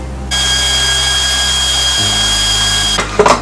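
An electric mixer whisks meringue with sugar toward soft peaks for macarons, producing a loud, steady motor whine that shifts speed partway through and ends with a few clattering knocks.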